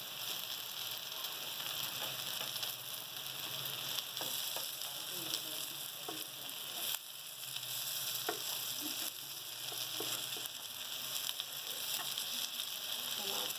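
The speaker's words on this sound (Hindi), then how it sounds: "दूसरी तरफ से भी हमारा कबाब ये फ्राई हो जाएगा।" Shami kebabs fry in oil in a pan with a steady, close sizzle and crackle running throughout, with a few faint kitchen clicks and no talking.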